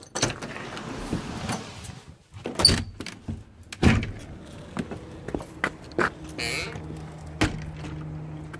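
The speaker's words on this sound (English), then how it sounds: "I'm going to go out this door." A house door opens onto the backyard, giving a few sharp clicks and knocks near at hand amid quiet room noise and light footsteps, with no talking.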